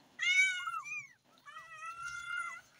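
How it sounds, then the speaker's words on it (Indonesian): Two clear kitten meows, a domestic cat's young calling close by, each drawn-out and rising then falling, separated by a short pause, with no talk over them. "Berjumpa lagi dengan kucing-kucing imut."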